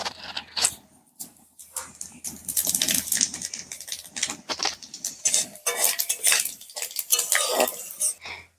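A spoon clinks and scrapes around a metal pot of dal in irregular bursts as tempering spices and fried lentil dumplings are stirred, with sizzling and clattering stirring sounds between brief pauses.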